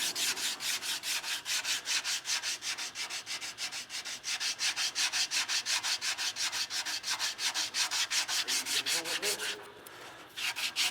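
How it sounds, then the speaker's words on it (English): Body filler on a car dent being hand-sanded in steady back-and-forth strokes, roughly four rasping passes per second, close and continuous with a short pause near the end. "making sure I'm sanding it correctly"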